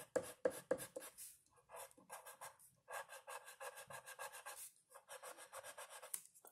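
A marker scratches back and forth across paper while colouring yellow tips on lettering, giving quick rhythmic rubbing strokes in close, quiet bursts with short pauses between them.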